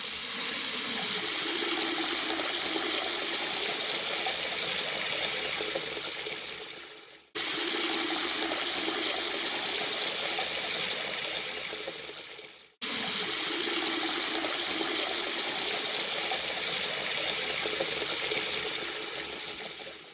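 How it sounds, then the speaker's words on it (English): Running tap water pours steadily into a sink while freshly harvested, homegrown garlic scapes are rinsed, a loud continuous gush broken by two brief cut-offs. "First thing that we need to do is to wash the scapes."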